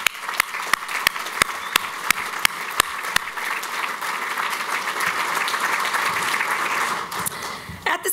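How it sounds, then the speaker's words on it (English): An audience at a Chicago Department of Aviation gathering gives a sustained round of applause for airport staff, steady dense clapping with a few sharp individual claps standing out early on. "I'd like to ask for a round of applause for our great and growing airport family."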